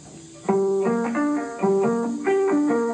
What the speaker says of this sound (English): Okay, so let's put these 2 things together so we have a longer arpeggio pattern.